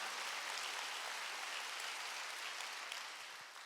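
Church congregation at a Wednesday worship service clapping together, a faint, dense and even wash of applause that tapers slightly at the end.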